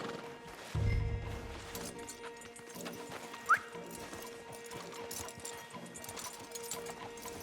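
Horses in Red Dead Redemption 2 walking at an easy pace, soft hoof clip-clop under a steady ambient bed, with one brief snort or whinny-like burst early and a short sharp sound midway.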